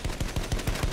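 Rapid bursts of gunfire from the video game Battlefield 1, about six evenly spaced shots in a second, loud and continuous with no talk over them.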